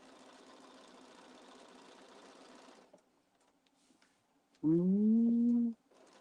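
A sewing machine stitching around a back pocket of a Liberty fabric handbag, a short loud mechanical whir of about one second, close, after quieter background noise.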